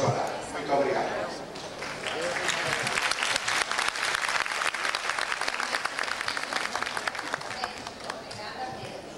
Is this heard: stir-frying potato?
no